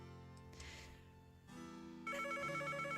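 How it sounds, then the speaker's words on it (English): An old-style telephone bell rings in Nancy Drew: Treasure in the Royal Tower, its steady electronic trill starting partway through after a low musical drone and carrying on at a moderate, even level. "The phone is ringing."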